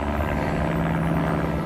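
A helicopter passes above a solo campsite in the Khao Yai mountains, its rotor and engine making a loud, steady, unbroken drone with a low hum throughout.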